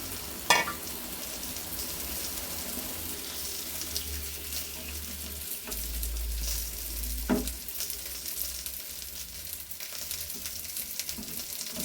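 A mustard and poppy seed paste curry with pabda fish simmering in a pan, a soft steady bubbling and sizzle running throughout, with a couple of brief clinks near the start and middle.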